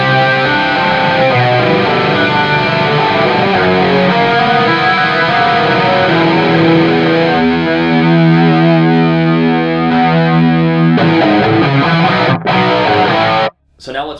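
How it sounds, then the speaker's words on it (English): High-gain distorted electric guitar plays through a Fractal Audio AX8's Dimension 1 chorus with reduced depth, a thick continuous riff and sustained chords for over ten seconds before cutting off abruptly, no talking. "Let's use the Dimension 1 chorus type, and I'm going to take the depth down a little bit."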